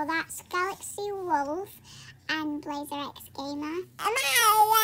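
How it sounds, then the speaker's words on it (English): A cat meows several times with rising and falling cries, mixed in with children talking close to the microphone over a faint background hum. "Yeah, that's just a cat."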